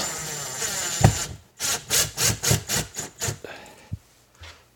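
Screws are driven into wood with a power tool while mounting a security camera: a series of about eight short, evenly spaced whirring bursts, close and fairly loud, with a few sharp knocks between them.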